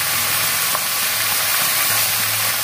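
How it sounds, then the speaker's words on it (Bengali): Raw jackfruit pieces fry in hot oil with salt added, giving a steady, even sizzle and crackle that holds close and constant throughout, with no talking over it. "আমি কিন্তু এঁচোড়টা সেদ্ধ করে নিই, কাঁচা এঁচোড়টাকেই ভাজছি"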